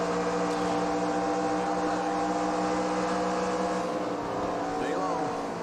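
A stock car's engine drones at high, steady revs in the NASCAR Racing 2003 video game at Texas, a sustained buzzing roar with layered harmonics and a brief rising whine near the end, under someone talking.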